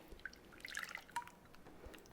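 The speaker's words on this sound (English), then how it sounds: "We're going to pour our melted butter in a new bowl." Melted butter poured from a pan into a new bowl while making chocolate chip cookies, a few faint, quiet drips and small liquid splashes in a short, sparse burst.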